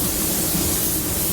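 A Porphis PRD-717 spray gun with a split-tip nozzle coats GM fenders in a steady, loud hiss of atomized spray, continuous and close up with no talking.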